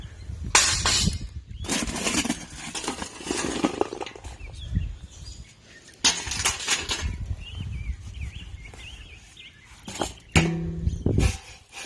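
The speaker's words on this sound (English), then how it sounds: "So we will dump out our coals into our little pan here" Hot charcoal coals dumped from a chimney into a small pan outdoors for Dutch oven cooking, heard as loud clattering, crunching bursts that tumble and settle between pauses, with faint birdsong behind and no talking.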